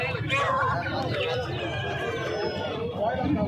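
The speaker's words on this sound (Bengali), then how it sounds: "টার্কি মুরগি।" Turkeys cluck at a rural village market, their calls rising intermittently over a background of people talking nearby.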